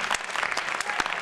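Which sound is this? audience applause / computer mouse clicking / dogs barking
audience applause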